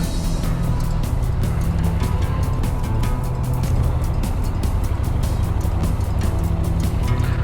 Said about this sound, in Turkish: yoğun bir trafik var